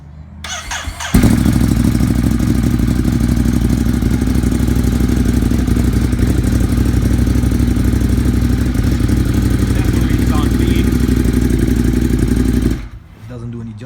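A 2017 Ducati Monster 821 fitted with a Termignoni exhaust fires up after a brief starter crank, then settles into a loud, steady, close-up idle that runs for about twelve seconds before cutting off.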